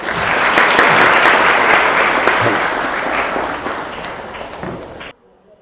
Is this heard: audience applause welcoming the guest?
yes